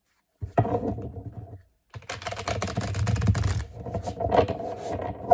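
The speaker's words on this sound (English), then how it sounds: "Okay, one last shuffle." Rapid riffling flutter of a tarot card deck being shuffled, a short burst then a longer one after a brief pause, close by.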